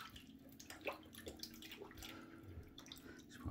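Hands washed in water in a sink before a shave, soft splashing and dripping at low level against a steady background hum.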